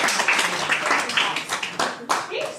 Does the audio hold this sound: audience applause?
yes